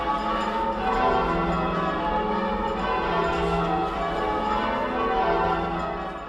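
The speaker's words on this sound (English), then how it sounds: "you're listening to the bells and you don't realize you're ringing" Church bells ringing changes in a continuous, dense, overlapping peal, a steady wash of metallic tones with no pauses and no voices.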